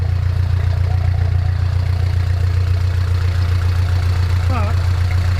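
A boat engine idles steadily on a Norfolk Broads hire cruiser, heard close beside the exhaust as a loud, continuous low throbbing drone with no break.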